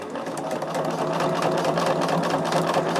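A sewing machine runs continuously, stitching in a fast, steady, close mechanical whir with a fine rapid clatter, with no voices over it.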